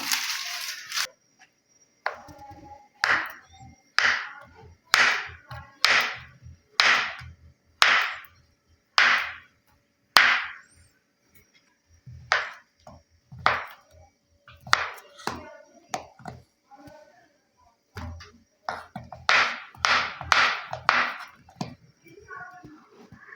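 Soap base already mixed with coconut oil is cut into small pieces, with a series of sharp, close knife chops on a board in an even rhythm, a short pause, then a faster cluster.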